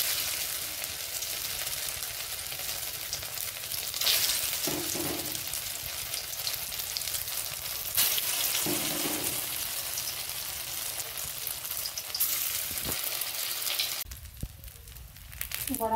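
Soybean fritters seasoned with turmeric and salt sizzle steadily in hot oil, a close, continuous crackle with a few brief clinks and a softer, thinner stretch near the end.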